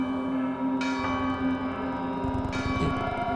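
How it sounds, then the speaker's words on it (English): Alarm bells ring across a city with sustained, overlapping metallic tones, loud and continuous, with fresh strikes at intervals swelling over the lingering resonance. "the whole city has suddenly started clinging with these warning and alarm bells"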